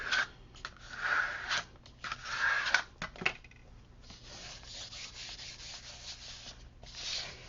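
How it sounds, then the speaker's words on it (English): Folded cardstock being burnished with a burnishing tool, giving soft, close rubbing and scraping strokes in uneven bursts, followed by a steadier, fainter rubbing. "Let's give this a good burnish."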